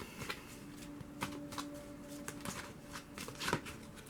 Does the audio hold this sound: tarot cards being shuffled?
yes